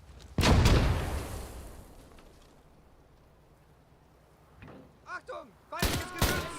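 A grenade blast and gunfire in the Gates of Hell World War II game, one loud close explosion decaying slowly, then later bursts of shots with voices talking over them.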